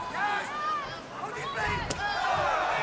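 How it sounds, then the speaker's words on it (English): Crowd at a kickboxing fight, a steady roar of cheering and shouting from a large arena with one sharp impact, while a commentator talks over it. "This crowd waiting for Badr to land that one big shot"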